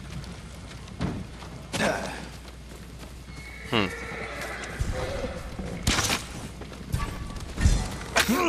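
Horses neigh and whinny in the Ghost of Tsushima video game, with hoof clip-clop and scattered game sounds; several whinnies come in bursts over a steady background.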